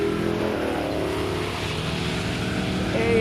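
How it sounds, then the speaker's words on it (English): Drag racing at the Studebaker National Drags, with a Studebaker GT Hawk in the near lane and an AMC Gremlin in the far lane; loud, continuous engine roar fills the clip, with no talk over it. "now we've got a GT Hawk in the near lane and an AMC American Motors Gremlin in the far lane"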